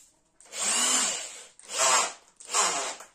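A Sturm ID21105KP 1050 W impact drill whirs in three short bursts, each about a second long with gaps between, close by and alone.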